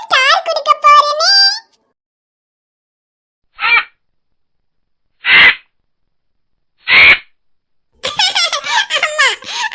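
A crow caws three times in short, harsh bursts spaced a couple of seconds apart, set between stretches of a child's high-pitched voice talking.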